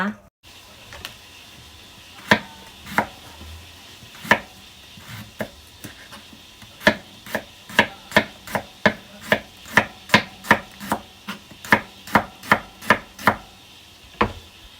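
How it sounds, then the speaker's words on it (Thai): Carrots being chopped with a knife on a cutting board in a home kitchen while a potato salad is made: sharp, close knocks, sparse at first, then a quick steady run of about a dozen, with light background noise. "今度人参を刻んで"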